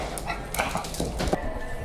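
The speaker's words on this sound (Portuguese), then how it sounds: "Tenta gravar o cachorrinho aqui." Small, frightened dog giving a few quick, yappy barks and whimpers close to the microphone over steady background noise.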